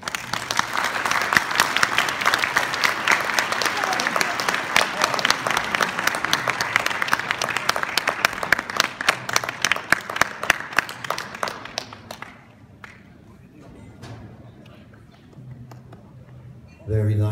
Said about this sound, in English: give him a big round of applause, all your presidents up here, folks